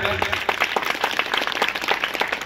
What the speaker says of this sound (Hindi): आमे करताली दी स्वागत करिबा।